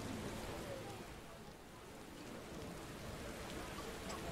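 Rain falling in The Witcher video game, a dense, even hiss of downpour that holds steady and alone for several seconds.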